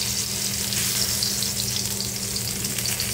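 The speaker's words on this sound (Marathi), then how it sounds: "ही वांगी शिजायला कमीत कमी 8 ते 10 मिनटं तरी लागतात, कारण एकदम मंद आचेवरती आपल्याला ही वांगी शिजवावी लागतात" Eggplants sizzle steadily in a pan over a low flame while being cooked for baingan bharta, a continuous close frying hiss with no pauses and no voices.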